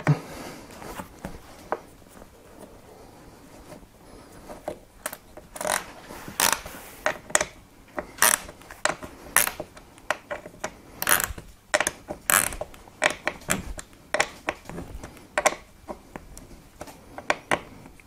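Screws tightened by hand while assembling a Tesoro Alphaeon S1 gaming chair and fitting its side cover: a long run of sharp, irregular ratcheting clicks and metallic ticks, close and fairly quiet, with no talk.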